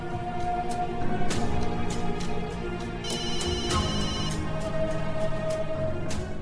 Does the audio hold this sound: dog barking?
no